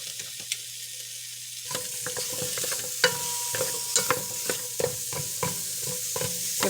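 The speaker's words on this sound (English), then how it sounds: "Give that a good stir about." Beef stew being stirred in a pot on the stove, a spoon scraping and clinking in steady strokes over a faint simmering sizzle, close and fairly quiet.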